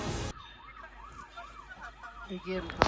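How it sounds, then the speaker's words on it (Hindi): An ambulance siren wails in a rising-and-falling pattern, somewhat distant, after a burst of noise at the start, on the road from Leh to Khardung La pass. "दोस्तों आपको जो सायरन की आवाज़ आ रही है बैकग्राउंड में, वो एम्बुलेंस का सायरन है"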